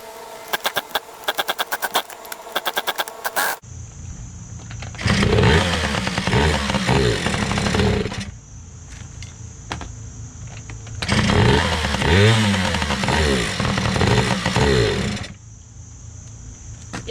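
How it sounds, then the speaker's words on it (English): A small engine fitted with a new spark plug sputters in a few rough firing bursts, then roars up loudly twice, each run holding several seconds before dropping back to quieter idling between, with no talk. "Let's see if it still runs."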